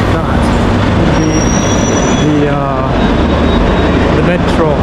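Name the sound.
Madrid metro train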